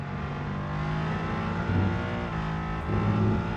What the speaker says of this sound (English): Bit of a gearbox whine there, which was nice as the car accelerated.